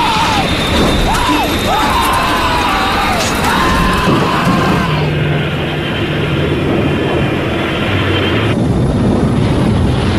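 An aircraft with its number 3 engine on fire roars loudly and continuously, with a rumbling, rattling wash of noise and a rising whine layered over it, filling the whole stretch without pause.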